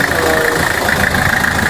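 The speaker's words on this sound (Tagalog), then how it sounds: "Pura buyag kayo ang compressor sa kuan Isuzu Elf." An Isuzu Elf's air conditioning compressor running with a loud, steady mechanical hum and whine, up close and continuous, with no talking over it.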